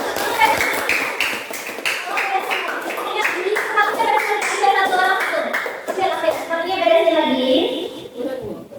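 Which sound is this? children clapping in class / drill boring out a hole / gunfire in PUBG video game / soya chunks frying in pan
children clapping in class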